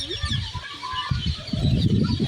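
Parrots chatter and squawk in scattered high calls over a low, busy outdoor rumble at Lakhota lake in Jamnagar after dark, several birds calling at once at mid distance.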